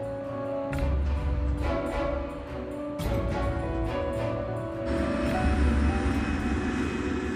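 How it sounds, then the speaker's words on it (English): A KLM airliner's engines drone steadily as it taxis back along a foggy runway, a continuous near roar with rising intensity toward the end and no talk over it. "The KLM is now back on the runway."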